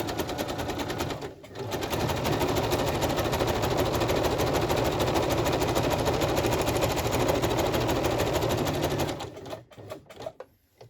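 A sewing machine zigzag-stitches down the side of a fabric journal page, a steady rapid mechanical chatter running loud and close for most of the stretch before slowing and stopping near the end.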